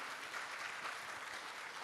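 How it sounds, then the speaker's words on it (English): An audience at a conference on climate change and rural transformation claps for Hannah, a soft, even spatter of many hands that sounds faint and far away. "So please clap for Hannah."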